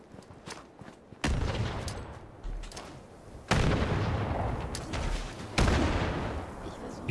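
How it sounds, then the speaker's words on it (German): Three heavy grenade blasts in Fallout 76 burst out one after another, each loud rumbling explosion decaying into a noisy tail before the next, spaced a couple of seconds apart. "Ich werde noch mal ein paar Granaten werfen"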